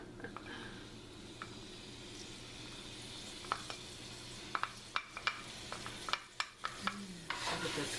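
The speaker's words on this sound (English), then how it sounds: "Stir it around so we get everything evenly coated-ish." A mixture with cinnamon, nutmeg and syrup stirred in a bowl or pan, soft wet scraping and clicking that grows busier toward the end, faint and close, with no talking.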